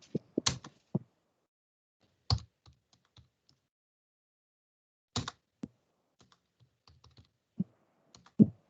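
Scattered keystrokes on a computer keyboard as someone types a short written answer, a few quick clicks in brief bursts separated by long quiet gaps, close and fairly faint.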